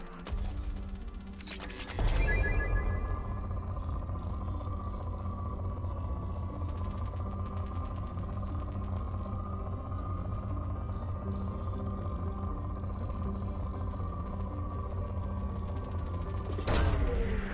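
Planet-scanning probe launch in Mass Effect 2, a sharp mechanical burst at launch followed by a long steady humming whoosh, closing with another brief burst, moderately loud throughout.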